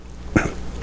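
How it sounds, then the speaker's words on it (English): A single short, sharp cough from a man who is under the weather, close to the mic, against a quiet room. "Sorry about the coughing, I'm a little under the weather."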